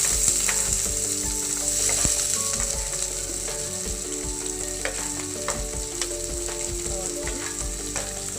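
Onions and green chillies fry for chicken curry, a loud, steady sizzle crackling close up throughout, with the occasional scrape of a stirring spoon.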